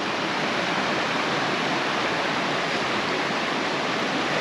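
A stream near a campsite at Mt Hood flows in a steady, full rush of water that stays close and constant without pause.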